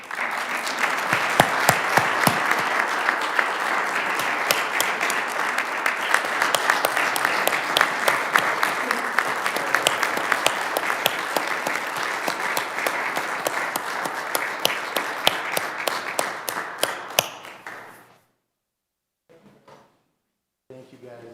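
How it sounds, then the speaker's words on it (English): An audience at a city council meeting claps steadily for about seventeen seconds, a dense, fairly loud roomful of applause that then stops abruptly, leaving near silence. "Give them a big applause."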